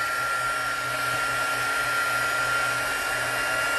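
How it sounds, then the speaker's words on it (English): An embossing heat tool blows hot air in a steady, loud, unbroken whir with a high tonal whine, close to the microphone throughout. "And yes, you do have to use your heat tool."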